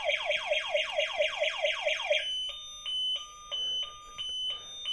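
Lock alarm of a Kingsong N12 Pro electric scooter: a fast series of loud rising chirps, followed by four separate steady beeps with short gaps between them, with no voices.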